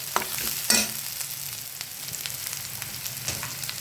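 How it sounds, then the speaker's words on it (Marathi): Spices roast in a hot pan with a steady, crackling sizzle throughout and a brief stirring scrape near the start, heard up close with no voices. "ते देखील भाजायचे छान"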